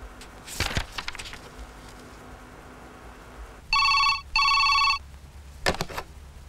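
A telephone rings twice in short electronic bursts, loud and close, with scattered knocks and rustling before and after.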